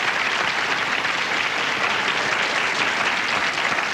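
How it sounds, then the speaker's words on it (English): Studio audience of a 1997 daytime talk show applauding steadily, a dense, loud wash of clapping that holds evenly throughout with no pauses. "And we applaud"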